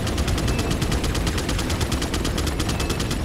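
Rapid, sustained bursts of large-calibre automatic gunfire in the Resident Evil 4 video game, loud and relentless, with evenly spaced shots hammering continuously over a dense low rumble.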